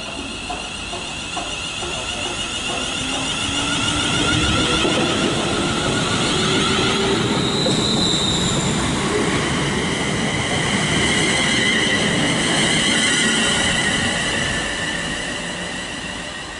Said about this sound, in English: departing now is 350107 on the 12:36 London Northwestern Railway service to London Euston from Crewe